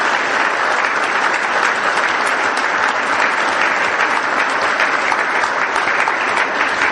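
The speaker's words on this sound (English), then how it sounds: "May I ask you to join in a round of applause for our 4 laureates." An audience at a Caribbean excellence awards ceremony applauds its laureates, a loud, dense and steady round of clapping that carries on without a break from start to finish.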